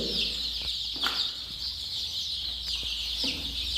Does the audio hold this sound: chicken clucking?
yes